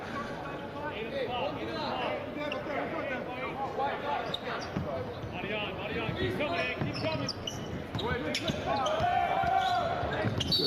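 A basketball is dribbled on the court floor during a Hawks versus Heat game, with steady bounces under continuous commentator talk and crowd murmur.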